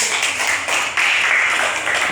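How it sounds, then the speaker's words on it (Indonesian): A classroom of students applauds a group after its presentation, a steady, dense wash of many hands clapping close by for about two seconds, with a brief dip partway through. "Oke, tepuk tangan untuk kelompok 1."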